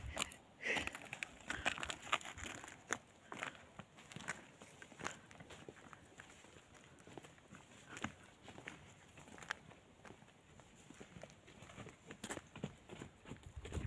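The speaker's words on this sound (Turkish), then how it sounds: "Yılkı atları." Feral horses walking close by on open ground, their hooves clip-clopping and scuffing in an irregular patter with faint rustling, heard near and fairly quiet, and no talk over it.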